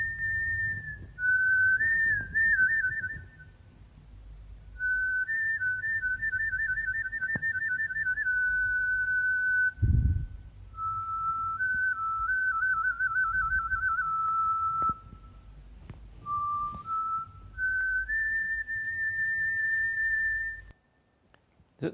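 An ancient wind instrument some 4,000 to 5,000 years old plays a series of clear, sustained whistle-like tones with short gaps between phrases, heard alone in a quiet room.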